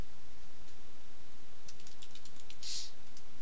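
Typing on a computer keyboard into a notepad file, a quick run of soft key clicks over a faint steady hiss, with one brighter click near the end and no talking.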